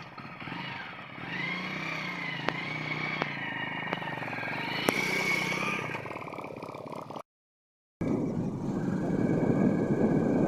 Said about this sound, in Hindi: ये हमारा प्राइवेट बाइक है, हम इस पर आज जा रहे हैं इंशाल्लाह